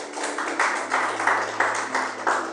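Church congregation clapping in unison in a slow, regular rhythm of about two beats per second, steady and moderately loud in a reverberant hall with a faint hum beneath.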